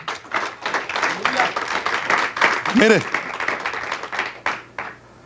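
A church congregation applauds during a Spanish-language sermon, giving an offering of clapping to the Lord. Steady, moderately loud clapping carries on alongside a preacher's voice and other talk.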